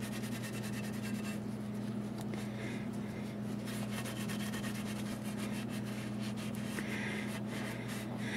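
An old t-shirt wipes stain back off a ceramic pumpkin, giving soft repeated rubbing strokes over a constant low electrical hum, close and quiet with no speech.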